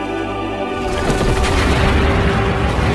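A loud, deep boom erupts about a second in as a tank is destroyed in a film, followed by a sustained rumbling roar of a big explosion with crackling debris.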